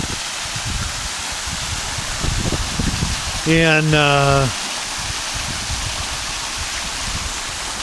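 Water from a glacier-fed mountain waterfall pours steadily as a broad, constant rush close by, while a person speaks briefly over it midway.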